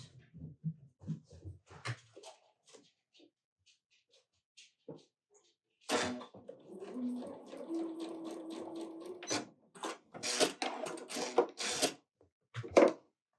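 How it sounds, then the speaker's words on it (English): Sewing machine stitching a skate appliqué piece: quiet handling taps at first, then bursts of steady mechanical whirring in the middle, followed by more rattling runs and clicks. "let's sew the skate"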